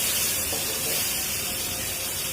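Shrimp sizzle while being stir-fried in a pan for a taro stolon curry, a loud, steady hiss of frying oil filling the whole moment.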